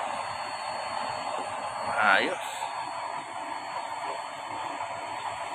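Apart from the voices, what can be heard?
blower fanning a stove fire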